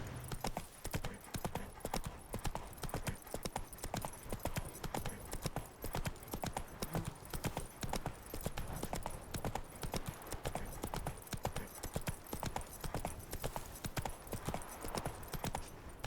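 Horse hooves in The Witcher 3 video game, a steady, continuous clip-clop at a walking pace, close and fairly quiet throughout.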